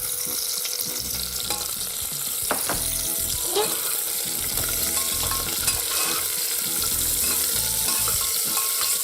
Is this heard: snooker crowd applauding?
no